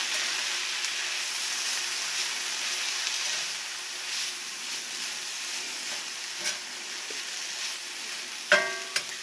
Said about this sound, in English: Oh, that's cooking down nicely.